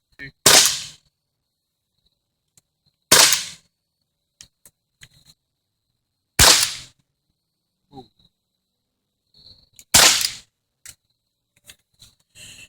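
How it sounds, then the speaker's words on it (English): An airgun fires .20 BBs in single action at targets outdoors, four sharp loud cracks spaced a few seconds apart, with faint small clicks and taps between shots. "this is .20 BBs. Single action firing."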